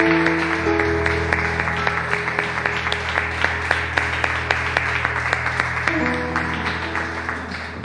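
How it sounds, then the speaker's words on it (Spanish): A church congregation applauds during a worship service, with steady rhythmic clapping over a sustained organ-like musical tone that carries on throughout. "Démosle un fuerte aplauso al Señor"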